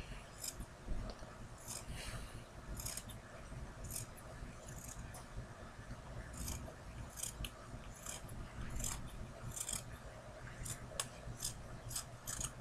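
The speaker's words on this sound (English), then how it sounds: "take a pair of scissors and cut out the shape you want" Scissors snip through fabric to cut out a heart shape for a sewn pillow, a quiet, close series of repeated crisp cuts and clicks spread steadily across the whole stretch.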